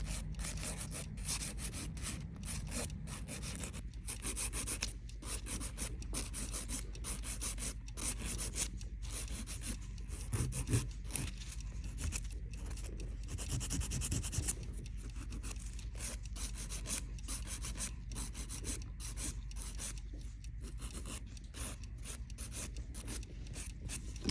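A nail file rasps steadily across an artificial nail, thinning it evenly in a nail technician exam setting, with quick repeated strokes running continuously and close up, no talking.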